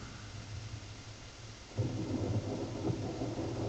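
Steady rain hisses throughout, then a deep rumble of thunder rolls in halfway and lingers under the downpour, with no voices.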